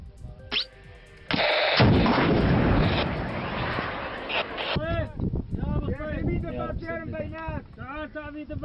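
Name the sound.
tank being destroyed, exploding, with gunfire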